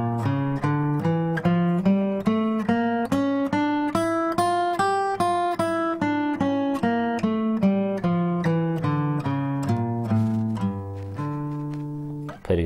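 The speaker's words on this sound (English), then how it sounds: "it opens with the use of a D harmonic minor scale" A D harmonic minor scale played on guitar, keyboard and bass, an even run of notes climbing and then descending step by step, ending on a sustained chord, loud and alone with no talking.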